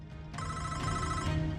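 A phone sounds a steady run of electronic beeps, starting abruptly and continuing as a sustained tonal ringtone, fairly loud and close, with no talk over it.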